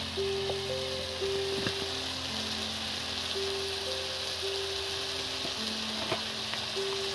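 Kashmiri chili powder frying in hot oil in a pan for a curry of a large sea fish, giving a steady, close sizzling hiss throughout with no talk.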